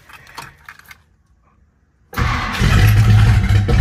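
A 1958 Plymouth Fury with Sniper fuel injection cranks briefly after a quiet pause, then fires and settles into a loud, steady open-exhaust idle, close by.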